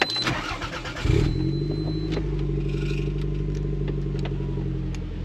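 A Toyota MR2 engine cranks briefly, then catches and settles into a loud, steady idle close by. A faint voice can be heard in the background.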